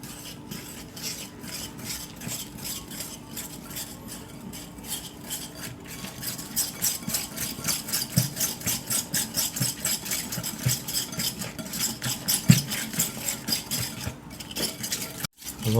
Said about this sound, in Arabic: نقعد نضرب كده لحد ما المقادير كلها تتجانس مع بعض، تتجانس.